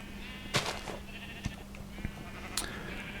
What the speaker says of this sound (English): are cutting so many sheeps, trimming their furs, getting some nice wool